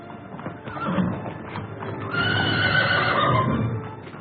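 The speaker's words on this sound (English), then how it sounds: "Best horse I ever owned." A horse whinnies loudly and close, a long shrill neigh after some snorting and shuffling.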